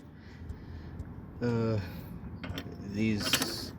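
Worn threads of a part on a B20 engine being twisted by hand, giving a few short rough mechanical clicks and grinding scrapes, with a louder ratcheting burst near the middle and another toward the end.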